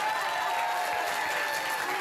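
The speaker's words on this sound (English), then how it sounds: "Let's give a big round of applause to New Brunswick." Studio audience on a TV talk show applauding, a continuous dense burst of clapping with a faint voice underneath, brief and evenly loud throughout.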